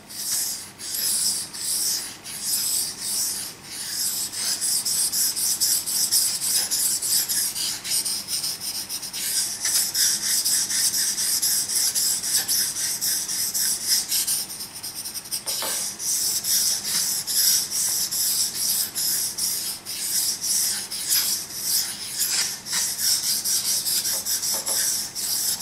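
A Ka-Bar KA4065 Dozier knife blade rasps in steady, repeated strokes across a Japanese water stone, a close, continuous gritty rubbing with no talk.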